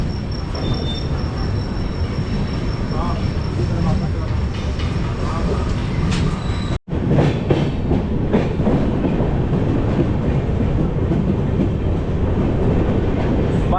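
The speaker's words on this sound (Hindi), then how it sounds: "लेकिन डिपार्चर हो चुकी है हमारी ट्रेन की" Chhattisgarh Sampark Kranti Express pulling out of Pendra Road station, a steady loud rumble of carriages with rhythmic wheel clatter over rail joints and a brief dropout midway, continuous throughout.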